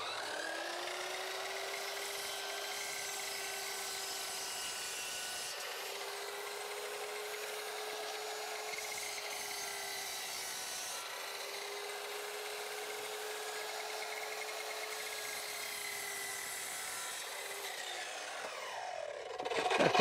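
A miter saw whines at a steady pitch through a long continuous cut into wood, then winds down at the end.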